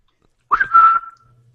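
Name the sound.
person imitating a whistle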